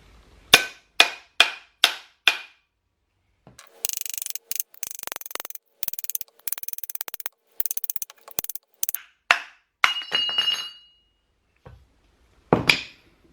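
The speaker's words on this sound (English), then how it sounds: "give this thing a few whacks going all the way around, and it'll come through" A hammer whacks a front suspension part on a BMW M6 (F12/F13) during a KW HAS install. Five sharp, evenly spaced metallic strikes ring out, then a rattling flurry of clanks, and a few final hits follow in a quiet workshop.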